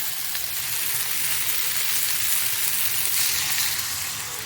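Potatoes sizzle and fry in a spiced masala gravy for a pea and potato curry as water goes in, a steady close hiss of frying and bubbling with no talk.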